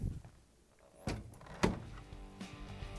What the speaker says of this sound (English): Now we can close the door.